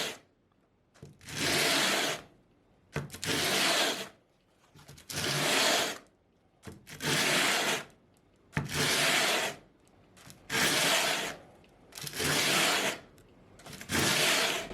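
Stainless steel guitar frets being leveled by hand: eight rhythmic, loud abrasive rubbing strokes, each about a second long, separated by short quiet pauses, close to the microphone.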